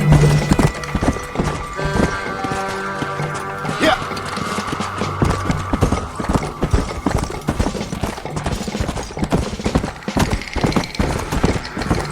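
Horse hooves gallop steadily in the video game Red Dead Redemption: Undead Nightmare, a rapid continuous clip-clop close by, with game sound effects and a few tonal cues layered on top.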